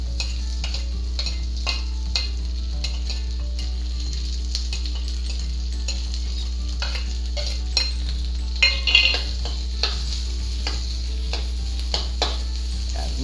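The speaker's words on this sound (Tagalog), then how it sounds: "Then dito tayo magigisa ng bawang at sibuyas." Garlic and onion sautéing in oil in a pan, a steady close sizzle with repeated scraping taps of a utensil stirring, no voices.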